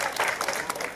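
Audience clapping in tribute to Michalis Gougias at a Kavala versus PAOK Kristonis football club event, a brief, steady spatter of applause from a modest crowd.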